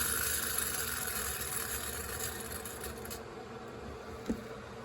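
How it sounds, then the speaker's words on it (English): A wind-up tin toy mouse running, its clockwork mechanism making a steady insect-like whirring buzz that eases off toward the end, broken by one small knock. "When you wind up this mouse, watch what happens."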